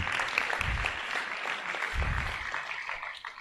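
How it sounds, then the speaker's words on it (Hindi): Audience applause at a seminar honouring a doctor's donation, steady dense clapping filling the room throughout with a couple of low thumps, no speech over it. "एक बार ताली बजा दो इनके लिए।"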